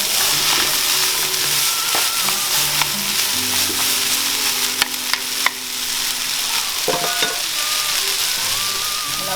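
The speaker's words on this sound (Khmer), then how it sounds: "យើងឆាវា ត្រឡប់វាប្រហែលជា5នាទីអីចាំយើងដាក់បន្លែចូលឲ្យមីហ្នឹងវាឆ្អិនណា" Packet noodles stir-fried with vegetables in a pan for chow mein, giving a steady, loud sizzle and frying crackle with scraping stir sounds throughout, close and alone with no talking.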